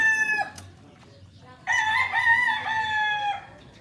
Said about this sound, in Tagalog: May manok pa dun, oh.